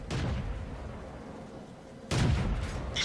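Tank gun firing in World of Tanks, two heavy booming shots about two seconds apart, each a loud broad blast with a lingering rumble, no talk.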